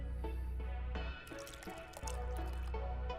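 Liquid poured out onto a table in a video game, a few dripping, gurgling splashes over a steady low background hum, quiet and close.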